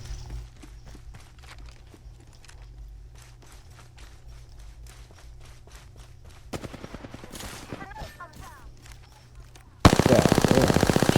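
Gunfire in the shooter game Apex Legends, rapid automatic bursts of sharp cracks, first lighter and spaced, then denser volleys, ending in a loud sustained stream of close shots, with footsteps and game effects between.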